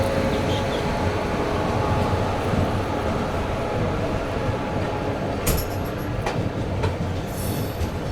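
A CR Rajdhani Express passenger train rushes past banker locomotives at Igatpuri, a steady loud roar of rolling wheels and rail noise throughout, with brief sharp squeals and clatters near the end.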